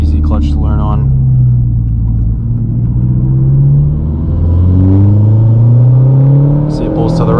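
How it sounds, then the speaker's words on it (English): Stock 2011 Mazdaspeed3 turbo engine on a drive, rumbling and rising as revs are blipped during downshifts, with revs climbing and falling in steps under someone talking. "Downshifting, rev match downshifting, super easy in this car."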